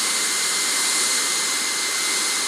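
Loud, steady roar of an aircraft jet engine taxiing in a flight simulator video game, a continuous broad hiss and whine with no pauses, close and unbroken.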